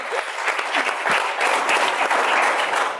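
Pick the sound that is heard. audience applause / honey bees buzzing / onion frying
audience applause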